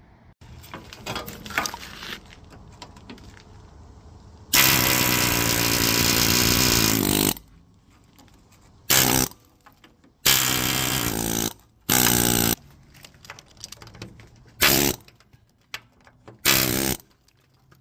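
A pneumatic air hammer works on a truck frame during prep for paint, firing in loud sustained bursts of a few seconds each, separated by quieter gaps with lighter clatter and handling noise.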